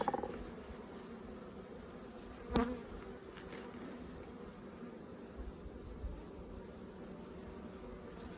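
A dense, steady buzz of many bees comes from an opened beehive, quiet and continuous throughout, with a brief louder knock or clunk near the start.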